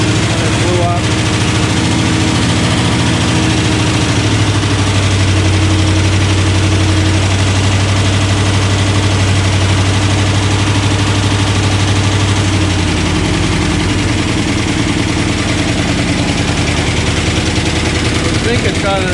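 A 1969 Dodge Dart V8, just started after fuel was poured down the carburetor and suspected of an exhaust leak, idles loudly and roughly and keeps running steadily the whole time while someone talks over it.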